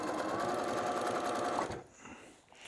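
A sewing machine stitches steadily in the ditch while free-motion quilting cotton fabric with no fusible, a fast even whir that runs loud and close, then stops abruptly, leaving quiet handling sounds.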